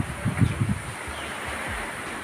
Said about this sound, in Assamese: বহুত বেছি বতাহ বলি আছে